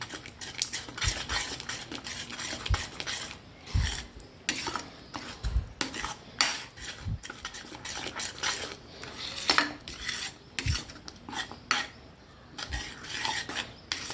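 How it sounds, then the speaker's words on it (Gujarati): A spoon stirs turmeric and chili powder into a pan of coriander and gram-flour curry, with repeated metallic scrapes and clinks against the pan in an irregular rhythm, close up and with no talking. "હલાવી દઈએ."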